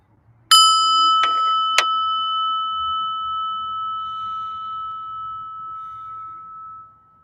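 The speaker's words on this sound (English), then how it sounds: "and the bell" A single meditation bell is struck once, ringing out clear and loud, then sustaining a long, slowly fading tone for several seconds in a quiet room, with a faint second tap early on.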